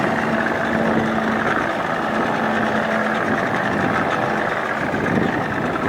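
A Johnson 25 hp outboard motor on a boat runs loud and steady, a continuous droning hum with a faint tonal whine and no pauses.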